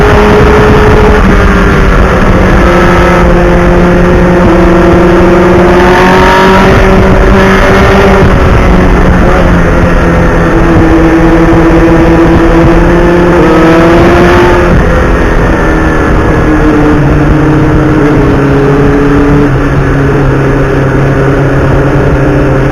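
A restored old motorcycle rides along an open road, its engine droning steadily with rising and falling pitch as it shifts through gears, loud and close with wind rush and no voices.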